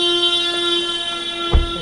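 A car horn held in one long, steady tone near a lower dam, sounding close and continuous for almost two seconds, with a brief low thump near the end.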